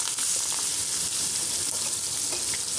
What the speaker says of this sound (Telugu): ఆయిల్ హీట్ అయిందండి, ఆనియన్స్ వేసుకుందాము